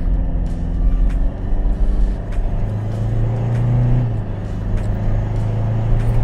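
A Mitsubishi Pajero Sport moving fast on the road, its steady engine and tyre roar loud and close throughout, with a low tone that rises and then drops back midway.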